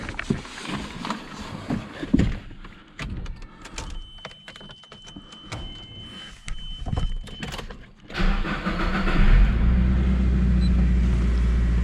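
After some clicks and handling noise, a Nissan 180SX engine cranks and starts, then settles into a steady, loud idle nearby.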